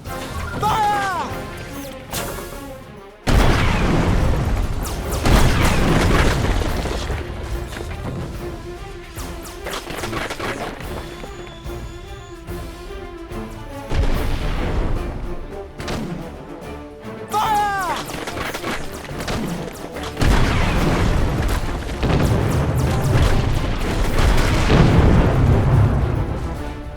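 Cannon fire and explosions thunder through a ship battle at Procyon in the Treasure Planet video game, with loud repeated booms and crashes layered over shouted voice commands throughout.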